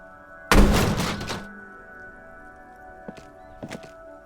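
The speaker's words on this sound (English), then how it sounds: "There is a hollow ring as you kick the box." A mostly empty box kicked in the video game Disco Elysium gives one loud hollow thump with a short ringing tail, followed by two faint soft knocks a few seconds later.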